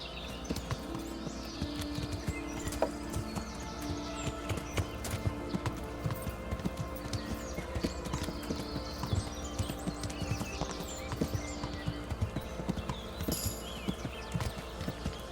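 Horse riding in the video game Kingdom Come: Deliverance, with steady rhythmic hoofbeats clip-clopping continuously at moderate volume and a brief whinny partway through.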